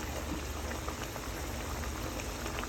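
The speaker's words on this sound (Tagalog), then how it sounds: "Ayan, guys, kumukulo na ng ating chicken na masarap." A pot of chicken curry with lemongrass and bell pepper boiling steadily, a dense continuous bubbling and simmering hiss, close and even throughout.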